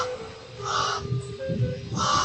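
A crow caws repeatedly in a dense forest, harsh calls coming in separated bursts over a steady low background hum.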